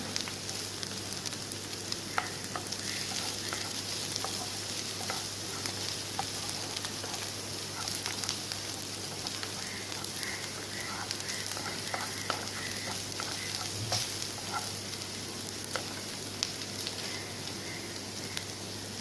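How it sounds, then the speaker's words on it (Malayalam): Ginger garlic paste sautéing gently on a low flame, a soft steady sizzle running throughout with occasional light scrapes of a spoon stirring the pan, no voices. "അതുകൊണ്ട് ലോ ഫ്ലെയിമിലിട്ടിട്ട് വേണം ഒന്ന് വഴറ്റിയെടുക്കാൻ. നന്നായിട്ട് ഇളക്കി കൊടുക്കുക."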